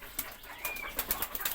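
Pigeons in a new pigeon house beat their wings in several quick, close bursts of flapping, with a brief faint whistle partway through.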